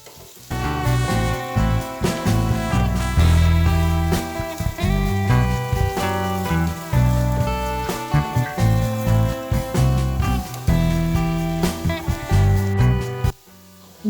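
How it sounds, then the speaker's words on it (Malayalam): Onion, garlic and shallots sauté in a hot pan, crackling and sizzling loudly and continuously with irregular bursts, while music with strong tones plays over the cooking. "നമുക്കിനി നമ്മുടെ ഉള്ളി, വെളുത്തുള്ളി, സവാള എല്ലാം നന്നായിട്ടൊന്ന് വഴറ്റിയെടുക്കാം."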